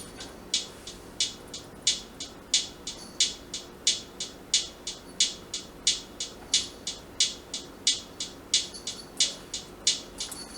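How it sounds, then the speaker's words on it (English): A basic trap hi-hat pattern from a beat, programmed as crisp, bright ticks in a steady groove with occasional quick doubled rolls, playing alone throughout. "the hat pattern that I built sounds like this"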